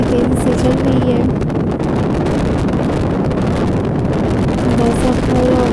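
Strong wind roars steadily across the open plain of Muzdalifah, buffeting the microphone with a loud, unbroken rush.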